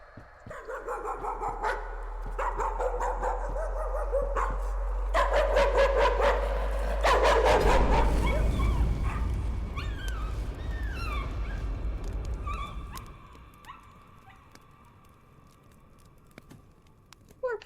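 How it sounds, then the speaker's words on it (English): A dog in the horror video game Layers of Fear whimpers and barks in the foreground, with eerie layered ambience and a rising rumble behind it that drop away near the end. "Why are you whimpering? And barking, too."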